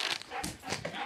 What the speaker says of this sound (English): you want me to send my dog over there to check?